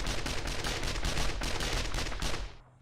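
Rapid automatic turret gunfire in the 7 Days to Die video game, a dense, steady stream of shots filling nearly three seconds before cutting off abruptly near the end.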